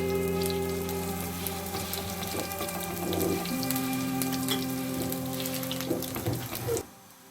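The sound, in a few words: desi ghee sizzling as makki roti cooks on griddle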